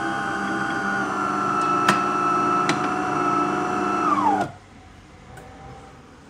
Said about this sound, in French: Le broyeur se met en route.